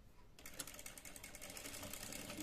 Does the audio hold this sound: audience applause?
no